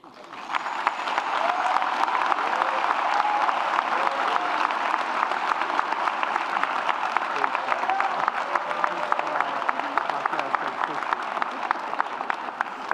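Sustained applause from a celebration audience after a keynote speech. The clapping is dense and even, fairly full and slightly distant, continuing for the whole span with a few voices and whoops mixed in.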